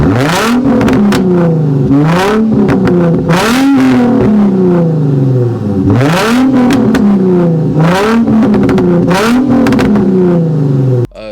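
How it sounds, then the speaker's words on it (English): Loud, close exhaust of an Infiniti G35 revving repeatedly, each rev rising sharply then falling back, in a series of throaty bursts. "The exhaust on this car sounds so good."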